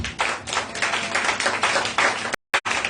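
A church congregation claps together in steady, continuous applause to acclaim Jesus during a French-language teaching service, loud and close throughout, with a brief dropout near the end.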